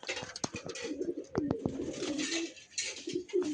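Pigeons of the Andhra Fulsira and Kalshira types coo in short rolling phrases from close by, several birds overlapping with sharp clicks and wing-shuffling in a board loft.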